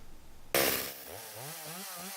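A Stihl 025 chainsaw is running during an oiler repair check: a sudden loud start, then a steady high engine whine that shifts pitch as the throttle varies, close and alone.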